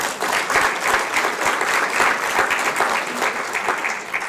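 A room full of people at a college-wide meeting breaks into dense, sustained applause that holds at an even, fairly loud level for several seconds.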